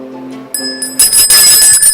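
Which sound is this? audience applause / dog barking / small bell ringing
small bell ringing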